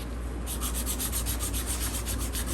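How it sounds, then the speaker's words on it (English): Rapid, even back-and-forth rasping of sandpaper sanding out the previous grit's lines, close and continuous with no voices. "what I'm doing is sanding out the previous grit's lines"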